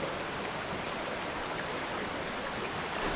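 River water flows through a rocky cave along the Ilog ng Tacloban in Barangay Malibayo, Batangas City, making a steady, even rushing wash with no voices.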